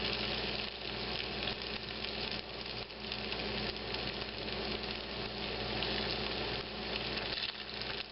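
Okra fries in a pan with a steady, dense sizzle and bubbling crackle, moderately loud and continuous throughout with no talking.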